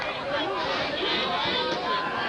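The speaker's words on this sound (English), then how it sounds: "The crowd continues to chant." Crowd in the stands at a 2000 high school bowl football game between Hastings and Pawling, a steady dense roar of chanting and chatter with no break, heard from within the crowd.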